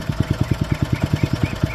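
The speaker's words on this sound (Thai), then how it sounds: "เครื่องยนต์เบนซินเท้าทด" A small ROBIN 5 hp four-stroke petrol engine with a reduction shaft chugs at a steady, rapid idle, each firing pulse distinct and evenly spaced, close and moderately loud.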